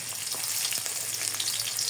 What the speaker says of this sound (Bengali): তেল গরম হয়ে গেছে, দিব পেঁয়াজ কুচি